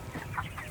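Chickens at a feeding place with many feed containers give soft, brief clucks close to the microphone over a low background hum.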